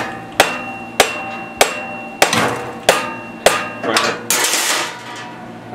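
A hammer taps on a Honda clone generator engine, with about seven sharp metallic strikes at a steady, unhurried rhythm, each ringing briefly. The tapping is close, loud and heard alone.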